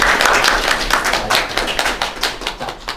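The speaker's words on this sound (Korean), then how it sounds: "김윤성 담당자님께 박수 한번 부탁드릴게요." A seminar audience claps for the presenter at a DJI Spark drone event, a fairly close burst of hand claps with individual slaps standing out over the general patter, and no speech.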